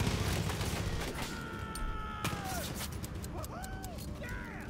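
Scattered gunfire in the Far Cry 5 Arcade shooter game, rapid bursts and sharp cracks mixed with whistling game effects, moderately loud and continuous.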